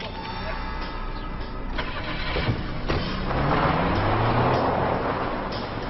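A car engine cranks and catches, then idles and revs as the vehicle pulls away, loud and close with a rising engine drone; a brief voice is heard early on.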